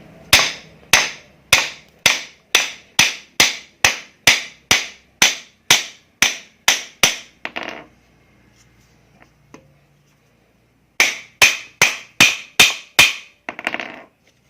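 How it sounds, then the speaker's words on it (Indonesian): A hammer strikes the back of a wooden hand plane to release its blade: a steady run of about sixteen sharp, loud taps, a short pause, then six more quick blows, with no talk. "cara melepasnya yaitu dengan cara dipukul bagian belakangnya, bagian sini dengan palu"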